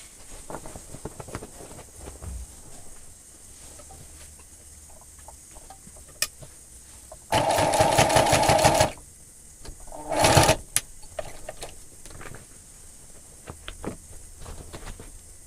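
Sewing machine stitching bartacks through thick layers of denim on jeans, two loud rapid bursts of needle hammering over quiet clicks and handling noise.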